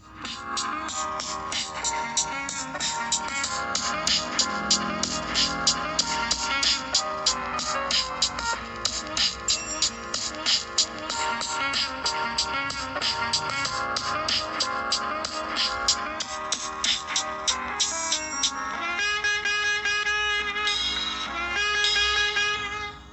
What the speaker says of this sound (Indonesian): seperti ini suaranya guys, kalau di Realme X yang menggunakan Dolby Atmos ya guys